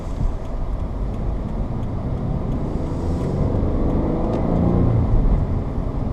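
A 2018 Subaru BRZ tS is driven on the road, heard from inside as a steady engine drone with road rumble that slowly builds in volume, with no talking.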